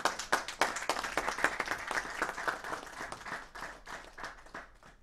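A congregation at a wedding ceremony bursts into lively applause, with many hands clapping densely and sharply at first, then the clapping gradually thins and softens toward the end.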